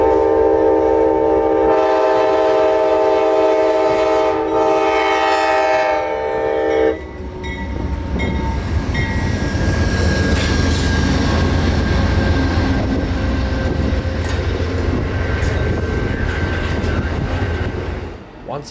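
An Amtrak passenger train rumbles past at full speed on the main line, its horn blaring in a long chord for several seconds before the clatter and roar of the cars take over.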